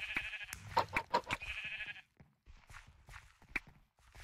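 Sheep bleat in the Minecraft Mineplex game, several loud close calls in the first two seconds, then quieter bleats and game noise after a short pause.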